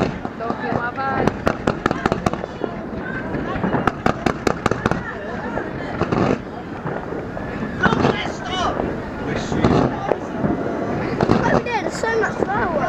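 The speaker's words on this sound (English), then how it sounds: "So much fireworks." Crackling bursts and sharp bangs from New Year fireworks at Greenwich, London, repeat through the clip over steady wind rumble and crowd noise, with voices talking nearby.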